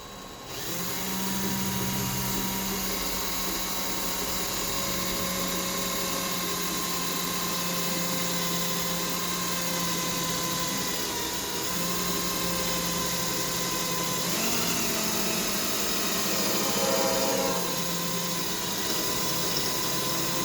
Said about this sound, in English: So now we have the drill bit, and we're just going to drill this hole in.